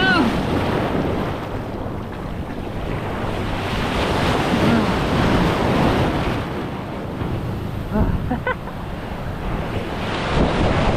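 Sea waves rolling onto a beach with strong wind buffeting the microphone, a loud steady roar of surf with no clear pauses.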